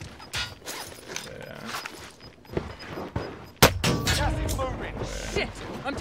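Gunfire in Call of Duty Warzone, a loud sharp shot at mid-clip followed by continuing battle noise, with scattered game sounds and a player talking over the action.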